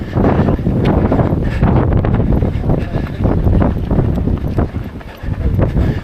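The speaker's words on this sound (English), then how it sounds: "The wind is behind us at the moment" Steady wind buffeting a microphone during a run up Chapmans Peak on a 21 km mountain road stretch, a loud continuous low rumble with gusty surges and no talk.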